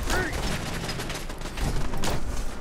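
Gunfire from a Fallout 4 firefight, several rapid shots and bursts crashing through a dense, loud mix with a player's voice talking over part of it.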